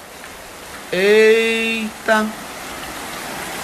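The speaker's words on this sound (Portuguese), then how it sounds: "Eita, que chuva." Steady rain falls in a constant broad hiss, while a woman's short exclamation and a brief follow-up voice rise over it.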